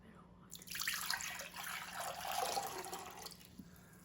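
Water is poured from one container into another, a soft, close splashing stream that runs for about three seconds with a brief pause midway, fairly quiet.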